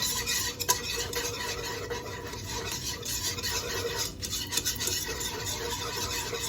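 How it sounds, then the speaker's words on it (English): Flour is whisked in a pan for mac and cheese, giving a continuous scraping, rasping stir with metal on the pan, close and moderately quiet, with no voices. "Three tablespoons of flour, and we're just going to whisk it."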